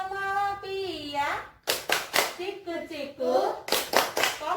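Children clapping hands during the Tepuk Malakapia clapping chant in a classroom, sharp rhythmic bursts of claps alternating with chanted voices, close and lively.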